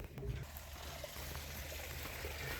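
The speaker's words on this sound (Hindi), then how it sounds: "और इसके बाद में थोड़ा सा पानी इधर भी खोल दिया है।" Irrigation water flowing into a farm field: a quiet, continuous rushing and trickling wash of running water, steady throughout with no clear talking.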